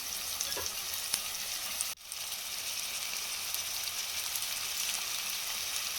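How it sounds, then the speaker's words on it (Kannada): Tomatoes tipped into onions already frying in a pan for a green gram (hesarukalu) palya, giving steady close sizzling with a brief dip near the two-second mark as they land, then continuous frying. "ಈರುಳ್ಳಿ ಕೂಡ ಚೆನ್ನಾಗಿ ಫ್ರೈ ಆಗಿದೆ. ಇವಾಗ ಇದಕ್ಕೆ ಟೊಮೊಟೊ ಆ್ಯಡ್ ಮಾಡ್ತಾಯಿದ್ದೀನಿ."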